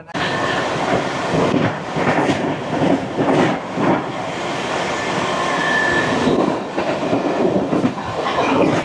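Express train 22808 from Chennai Central to Santragachi runs steadily on rails, a loud continuous rumble with rhythmic clickety-clack and occasional faint wheel squeals, close by.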